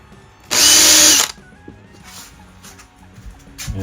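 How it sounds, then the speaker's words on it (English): A power drill whirs loudly in one short burst of under a second, pre-drilling screw holes in panel end caps in a van build, then quieter handling clicks and faint rustling follow. "it's nice to just do a little pre-drill."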